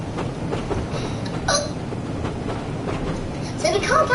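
A train in the Train Sim World game runs along the West Somerset Railway, giving a steady broadband rumble and rail clatter for the whole stretch, with faint voices now and then.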